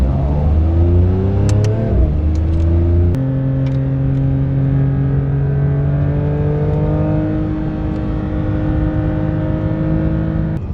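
A Porsche 992 GT3 RS with a manual gearbox accelerates hard on a racetrack, its engine note climbing loudly through gears with sharp shift breaks, then holding a sustained high rev drone, heard close from inside the car.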